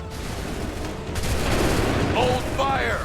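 Musket volleys crack and boom in Assassin's Creed at the 1775 Battle of Lexington and Concord, rolling loud gunfire that swells midway, with faint voices in the background.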